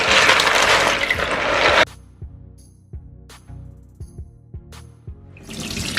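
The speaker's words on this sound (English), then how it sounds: "the first thing we're going to do is to get the peas washed" Water splashes and runs loudly as dry kidney beans are washed, breaks off into a stretch of small clattering knocks as the beans are stirred in a pot, then the running water returns.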